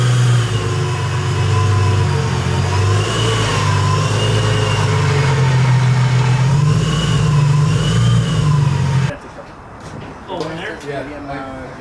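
A supercharged Infiniti G35 engine holds a loud, steady high rev with a droning whine on a dyno, then cuts off abruptly near the end, leaving a quieter idle and background voices.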